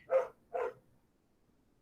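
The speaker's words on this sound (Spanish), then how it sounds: "no sé si se escucha el perro ladrando" A dog gives two quick, sharp barks in close succession, moderately loud and fairly close, followed by quiet.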